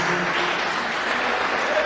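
A church congregation gives a short round of applause in praise of Jesus during a service, steady and fairly loud throughout, with no distinct voices standing out.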